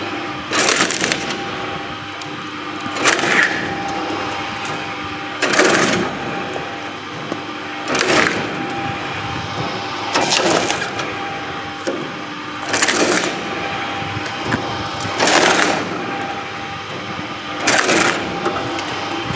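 A coconut cutting machine splits copra coconuts in a steady rhythm, with about eight sharp cracking chops at roughly two-and-a-half-second intervals over a constant mechanical whirr, close and fairly loud.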